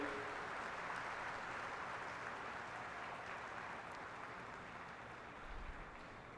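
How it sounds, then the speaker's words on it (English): A convocation audience applauds the graduating class with steady, distant-sounding clapping that holds evenly throughout and fades slightly toward the end. "please give a huge round of applause for the graduating class"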